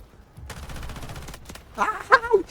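A fast burst of assault rifle fire from the shooter game Delta Force rattles steadily for about a second, followed by excited shouting.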